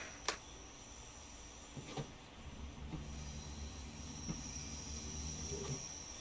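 A train in a Cathcart railway simulator game crawling slowly out of a depot siding, with a faint, steady low rumble, soft hiss and a few light wheel clicks and squeals, no talk.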